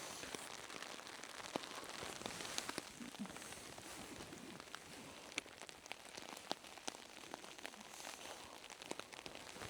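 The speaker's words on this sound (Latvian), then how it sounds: "Ārā līst lietus." Steady rain falls outside at a forest camp, a dense even hiss with scattered close drips and taps on surfaces throughout, no voices.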